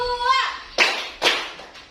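Children clapping hands in a classroom clapping game, a voice calling out first and then a few sharp, crisp group claps spaced about half a second apart.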